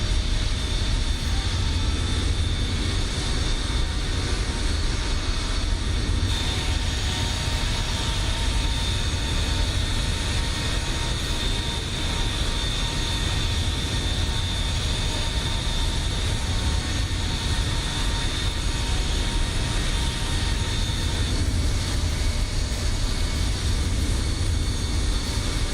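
Steady, loud jet engine roar from a Bombardier Challenger departing in Microsoft Flight Simulator, a continuous broadband rumble with a whining tone holding throughout, no talk.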